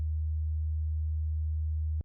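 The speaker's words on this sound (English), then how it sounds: "essentially all it is, it's just a sine wave" A low, steady sine-wave tone, bounced out around C or D sharp for a tech house track, holds unbroken for about two seconds and then stops with a short click.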